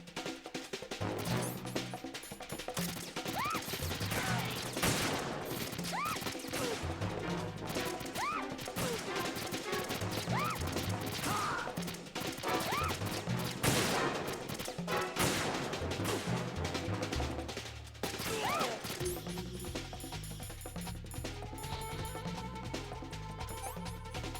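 Rapid PSG-1 sniper rifle shots in a video game crack out as sharp, loud bursts, several close together, over a dense, busy bed of game sound that stays steady throughout.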